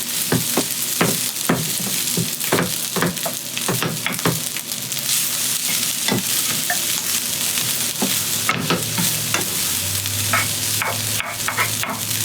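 A utensil stirs leftover beef fried rice in a hot, oiled pan to break up lumps, giving a steady sizzle with repeated sharp scraping clicks and taps against the pan, close and fairly loud, with no talking.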